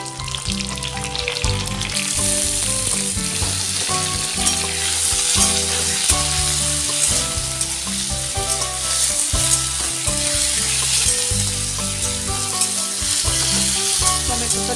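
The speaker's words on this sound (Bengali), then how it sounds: "টমেটোটা দিয়ে ভালো করে নাড়াচাড়া করে একটু ভেজে নেব।" Tomatoes and eggplant fried and stirred in a wok, giving a dense, continuous close-up sizzle with scraping stir strokes and bubbling crackle throughout, no voices.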